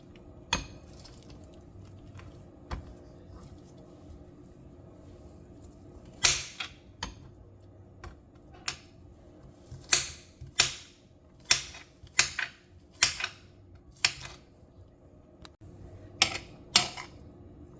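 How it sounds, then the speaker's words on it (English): A knife chops green onions on a cutting board: after a few isolated taps, a steady run of sharp, crisp chops follows in an even rhythm, close up with no talking. "So next, I'm going to cut up about 2 of these green onions."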